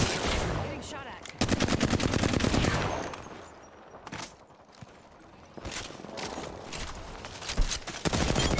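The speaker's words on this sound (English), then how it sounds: "Getting shot at." Video game gunfire erupts in rapid automatic bursts, loud and close, with dense rattling volleys that pause briefly and then resume, plus scattered single shots in the gaps.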